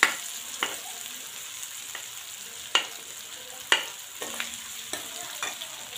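Carrots for a sambhara cook in a pan with a steady background sizzle, broken by a few sharp stirring scrapes and taps of a spoon against the pan, fairly close.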